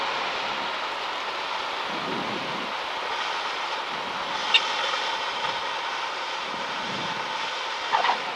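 A small airplane's engine hums steadily at low volume during a taxi, with a few faint clicks and low rumbles over the top.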